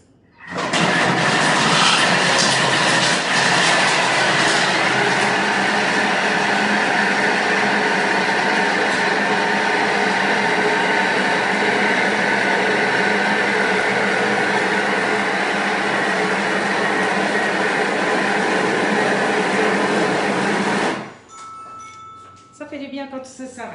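Thermomix mixer kneading express puff pastry dough at speed 6, a loud, steady motor whir with churning dough lasting about twenty seconds, then stopping abruptly.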